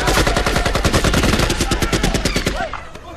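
Loud, sustained automatic gunfire from a video game shooter: a dense, steady stream of rapid shots close up that cuts off near the end, with no talk over it.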